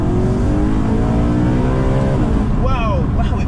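A BMW E90 M3 engine in manual-only MDM mode, in second gear, revs hard and close, pitch climbing through the gears before dropping sharply, then surging again.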